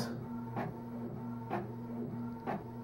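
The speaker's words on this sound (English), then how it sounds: "Just have to wait for the printer." An inkjet-style printer printing custom sticky notes, running steadily with a constant hum and regular mechanical strokes about once a second, close and moderately loud.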